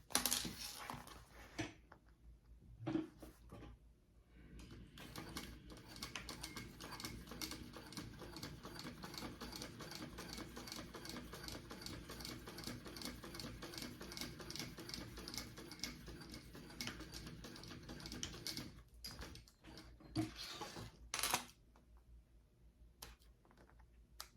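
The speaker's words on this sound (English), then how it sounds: "by doing 2 rows of stitching here, I'm giving it a little bit extra for reaching in and out right there" A sewing machine runs two rows of stitching along a wallet slip pocket, a steady, close rhythmic whir and patter lasting about twenty seconds, with brief stops and restarts near the beginning and end.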